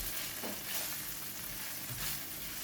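Fish cakes frying in garlic oil in a pan, giving a steady, dense sizzle that fills the whole stretch without pauses.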